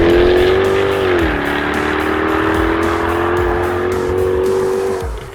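Jaguar F-Type V8 R launching hard with no launch control, its V8 roaring loud and close as revs climb and hold, with tires scrabbling on tarmac before the noise fades at the end.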